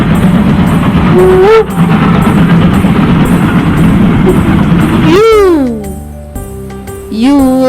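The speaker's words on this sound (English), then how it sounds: "T is for train." A train rumbles along with loud, continuous noise, then two sweeping whistle or horn blasts ring out near the end. A voice talks over the early part.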